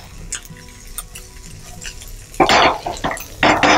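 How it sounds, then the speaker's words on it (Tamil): Curry leaves rice being stirred and sautéed in a pan: a quiet start with faint clinks, then louder scraping and sizzling spoon strokes in two bursts, close and alone. "இப்போ நல்லா வதக்கிக்கலாம்."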